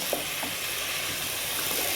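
Tomatoes sizzle in a hot pan for Moroccan meatballs with a steady, fairly quiet frying hiss. A few faint clinks or stirring touches rise briefly above it, and there is no talking.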